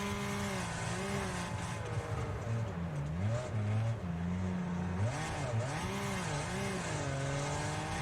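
A car engine in the racing game Wreckfest revs up and drops with each gear shift, its pitch sweeping up and down repeatedly in a steady, loud drone with no talking.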